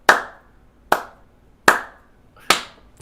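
One person claps hands four times, slow and evenly spaced, each sharp clap close and crisp with a short decay and silence between.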